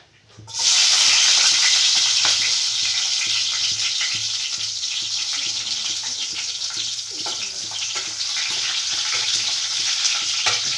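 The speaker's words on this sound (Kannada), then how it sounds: "ನಾನೀಗ ಇದನ್ನೆಲ್ಲ ಹುರ್ಕೊಳ್ತೀನಿ ಎಣ್ಣೆಯಲ್ಲಿ ಫಸ್ಟು ಈರುಳ್ಳಿ ಹಾಕ್ಕೊಳ್ತೀನಿ" Onions drop into hot oil in a pan and burst into a loud, continuous sizzle close up, settling into steady frying with occasional stirring after a brief quiet start.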